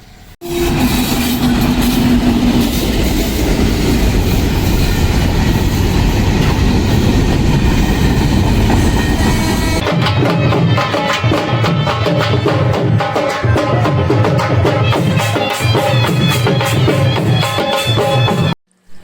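A train passes close by in a Pakistani village, its steady rolling roar and engine rumble giving way to rhythmic clickety-clack of wagon wheels over rail joints, loud and continuous until it fades out at the end.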